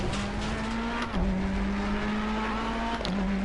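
A Ferrari race car in the racing game ACC during qualifying, its engine holding a steady high drone with a brief dip in pitch partway through, loud and continuous with faint tire noise underneath.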